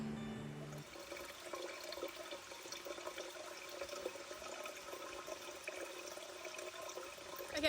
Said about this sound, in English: I'm going to give them a little water, groundwater